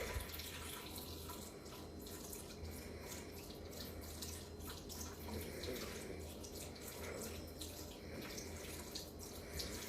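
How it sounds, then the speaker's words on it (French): A tap runs with a steady, even stream of water while an animal drinks from it. The flow is continuous and fairly quiet throughout, with no one talking. "Doudous boit au robinet"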